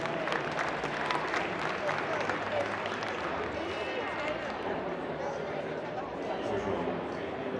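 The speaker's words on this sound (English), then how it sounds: "About a nice round of applause for Smith Cattle Company." Crowd applause in the stands at a 2024 West Texas ranch rodeo, a dense, continuous roar of clapping and crowd noise at steady loudness throughout.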